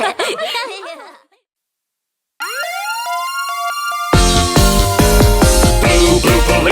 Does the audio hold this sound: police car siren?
yes